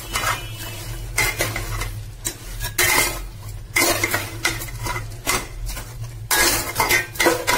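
A spatula stirs an onion and yogurt mixture for mutton curry in a metal pot, making rhythmic scraping and clanking strokes. A light sizzle sits underneath the repeated stirring, with no voices.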